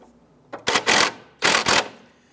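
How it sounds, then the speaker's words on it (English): A 15mm socket ratchet tightens a nut on a 2001-2005 Honda Civic control arm, giving two close, loud bursts of rapid ratcheting clicks separated by a short pause. "Using our 15mm socket, I want to go ahead and tighten down this nut right here"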